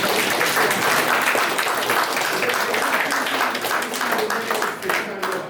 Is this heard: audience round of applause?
yes